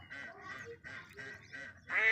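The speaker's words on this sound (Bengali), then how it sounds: "দেখুন অনেকগুলো হাঁস এখানে রয়েছে, পানিতে বিচরণ করতেছে।" Ducks swimming on river water give a run of short nasal quacks in a steady rhythm, about six calls in two seconds, the last one louder and nearer.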